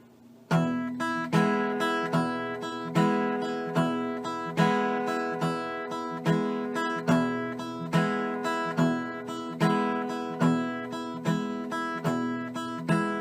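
Fingerpicked acoustic guitar playing steady eighth-note melody over an alternating thumb bass, clear and close with a regular plucked rhythm throughout.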